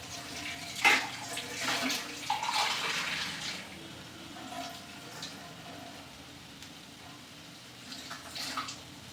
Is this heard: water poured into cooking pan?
yes